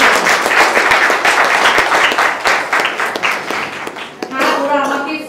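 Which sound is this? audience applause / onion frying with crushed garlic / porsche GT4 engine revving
audience applause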